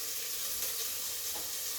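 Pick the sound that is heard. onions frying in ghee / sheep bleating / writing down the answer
onions frying in ghee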